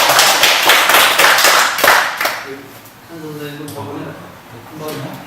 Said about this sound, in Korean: 또 박수 주세요.